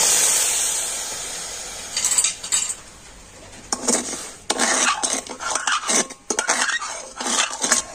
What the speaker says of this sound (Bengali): তো এই চিনিটা এখন কড়াতে আমি দিয়ে দিচ্ছি।